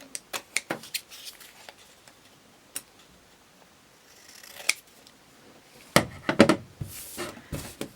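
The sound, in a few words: scissors cutting folded paper for a mini journal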